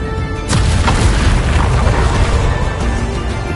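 A Confringo spell goes off in the Hogwarts Legacy video game as a loud, booming blast with a rumbling tail, then a few smaller pops over the continuing rumble.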